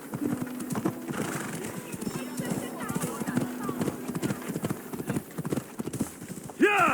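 Horse galloping with rhythmic clip-clopping hooves and a whinny in the video game Assassin's Creed Odyssey, steady and close throughout, with a voice shouting over the hooves.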